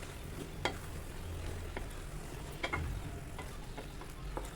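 Mushrooms being stirred into fried masala for a mushroom curry, a soft continuous sizzle with several sharp scraping clicks of a spoon against the pan, close and steady with no voices.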